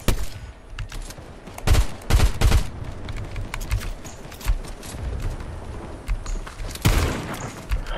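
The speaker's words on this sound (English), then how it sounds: "shoot the fucking tank at the gas station" Loud video-game gunfire aimed at a fuel tank at a gas station, heard as separate bursts and clusters of shots with short gaps, close and sharp against quieter background noise.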